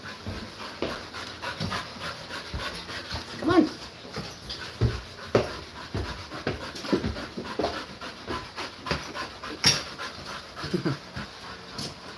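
A dog pants rapidly and rhythmically close by, with occasional soft whimpers and yips between breaths, while someone briefly speaks to it.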